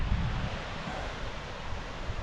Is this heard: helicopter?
no